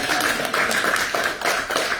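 A live audience at a recorded podcast show claps together in a dense, steady burst of applause that runs throughout, loud and close, with no talk over it.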